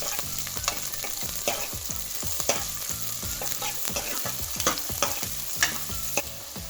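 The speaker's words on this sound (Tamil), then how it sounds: "வெங்காயம் வந்து லைட்டாக புதுசாக வர வச்சு நல்லா வதக்கிக்கலாம்." Onions sauté in a hot pan for a mutton curry, giving a steady sizzle broken by repeated scraping and stirring clatter from a spoon against the pan, close and continuous, with no talking.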